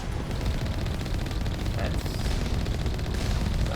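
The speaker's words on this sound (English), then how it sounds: "Let's gun down the heavy turrets" Sustained automatic gunfire rattles without pause in the video game Mass Effect, aimed at heavy turrets, dense and loud throughout.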